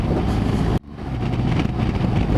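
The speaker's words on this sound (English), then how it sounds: "when you do get rolling and the revs get up, the old boxer engine does smooth out a little bit" A 2016 BMW R1200GS boxer-engine motorcycle drones steadily on a test ride, the engine and wind roar cutting out abruptly for a moment before resuming at a constant level.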